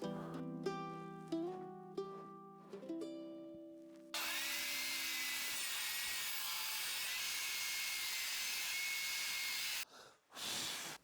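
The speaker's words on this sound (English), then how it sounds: "First, I want to set to where we're just cutting this far edge off" A table saw rips the edge off wood boards: a tonal whine from the blade spinning up gives way to a loud, sustained hissing cut lasting several seconds, then it briefly drops out and resumes, with no speech.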